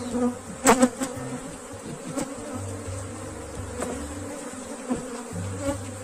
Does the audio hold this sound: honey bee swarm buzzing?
yes